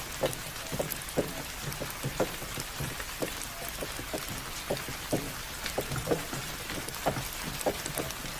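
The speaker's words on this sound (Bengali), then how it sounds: "প্রায় 1 ঘন্টা ধরে বৃষ্টি হচ্ছে, বৃষ্টি থামার কোনো লক্ষণই দেখছি না।" Heavy rain pours during a bullock cart ride, a constant wash of noise punctuated by regular sharp drip and drop impacts close by, with no talking.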